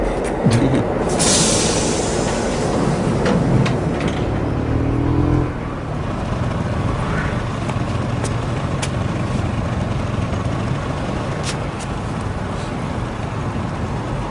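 A metro train rumbles along steadily with a continuous roar and scattered metallic clicks and squeals from the wheels. There is no talking.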